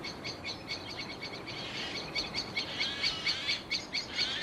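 Woodland birds call in agitated bursts to mob a tawny owl, a busy overlapping chorus of sharp, repeated chirps and scolding notes from several birds at moderate distance; no talking.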